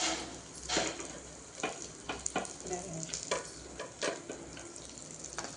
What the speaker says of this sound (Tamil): வறுப்பட்டாங்க காஞ்ச மிளகா போட்டுக்கணும் ஃப்ரெண்ட்ஸ்.